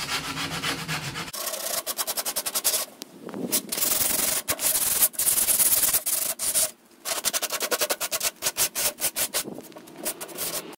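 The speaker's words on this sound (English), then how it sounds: "We've just got a bit of sandpaper and we're just going to clean it up a little bit." Sandpaper rubs back and forth over the rough edges of plywood in quick rhythmic strokes, close and scratchy, with short pauses between bursts of sanding.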